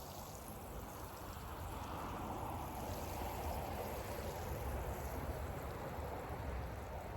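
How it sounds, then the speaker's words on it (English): Water from a watering can pours steadily over freshly sown seedlings in a garden bed, a continuous soft splashing hiss that stays even and close for several seconds with no talking. "let's go and get the watering can. All right, I'll give them a good water in."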